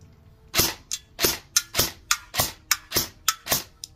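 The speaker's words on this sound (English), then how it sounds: "We're going to be shooting at the target." An E&C 417 airsoft rifle firing 0.36 gram BBs at a 9-inch target: about eleven sharp, snappy shots in an uneven rapid rhythm, close and clear with nothing else over them.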